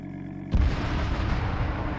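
A sudden heavy explosion in the video game Arma 3 booms after a brief quiet hum, followed by a rumbling, crackling tail that lingers without fading.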